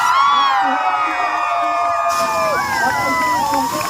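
A large crowd cheers and whoops at an outdoor dandiya night at a ground in Satara, a loud, steady roar of many voices with bright shouts rising over it for the whole stretch.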